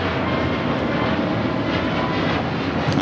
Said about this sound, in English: A plane heading to Phoenix.